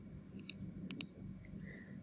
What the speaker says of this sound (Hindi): इस पर हम क्लिक करेंगे